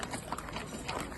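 Hooves of donkeys and a pony clip-clop faintly in a steady irregular patter during a seasonal livestock drive, heard at a distance under outdoor ambience.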